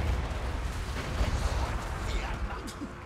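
Bombs blow open a gate in the Total War: Warhammer 2 video game, making a rolling, muffled rumble of explosions and battle noise that runs through the moment, with a voice talking over it.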